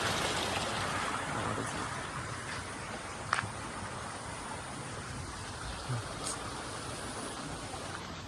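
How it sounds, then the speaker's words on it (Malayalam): A small forest waterfall and flowing stream rush steadily, close and loud, as a broad unbroken wash of water. A couple of faint brief knocks sound through it. "ചെറിയൊരു വെള്ളച്ചാട്ടം കണക്കാണ്"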